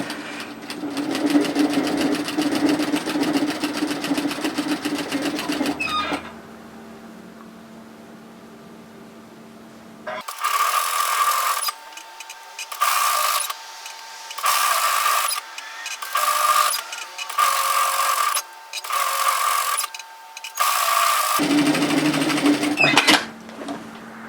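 A sewing machine stitches a skirt seam: one long steady run, a quiet pause, then a series of short stop-start bursts before a final sustained run, loud and close with no talking.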